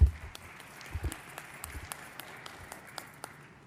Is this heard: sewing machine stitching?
no